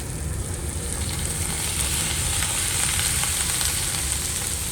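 Bell peppers sizzle steadily in a hot pan at a seafood cooking demo, shrimp about to go in; a dense, even frying hiss fills the whole stretch close up, with no voices.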